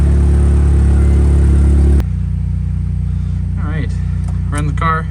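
A NASCAR Pure Stock race car engine idles loudly and steadily up close, a deep throbbing rumble that drops to a lower, quieter idle partway through while faint voices are heard over it.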